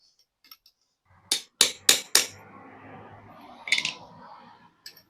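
A hammer taps a fitted piece in until it sits flush, four sharp close strikes in quick succession followed by a lighter knock and a faint final tap, with quiet scraping between.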